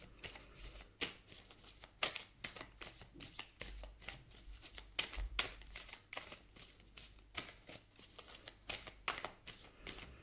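Tarot cards being shuffled by hand, a steady run of crisp riffling bursts close up at low volume with no talking.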